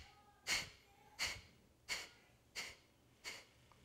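Five sharp, forceful sniffing exhales out the nose during yoga breathwork, evenly spaced about two-thirds of a second apart, close and clear with quiet in between.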